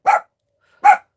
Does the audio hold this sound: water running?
no